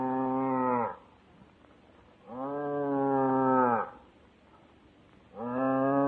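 An ox gives three long, loud, close moos, with quiet pauses in between.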